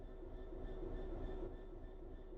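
Train starting to move in Train Sim World 3, a continuous low rail rumble with a steady humming drone and faint tonal whine, quiet and even without distinct clanks.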